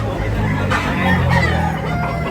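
A rooster crows at a Cebu fowl market, the call rising loud and close over a steady backdrop of market chatter and clucking birds.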